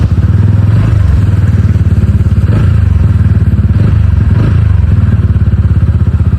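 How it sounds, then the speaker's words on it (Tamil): A TVS Ronin 225 motorcycle engine idles steadily after its third service, a continuous low rumble with a faint mechanical clatter and no voices. "இன்ஜின் சவுண்டு ரெடியூஸ் ஆகிடுச்சு"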